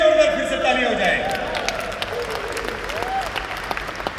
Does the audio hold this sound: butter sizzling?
no